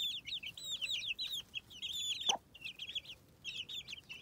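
Two free-range hens cluck in quick, chattering bursts close by while pecking, with one sharp squawk midway and brief pauses between the clucking runs.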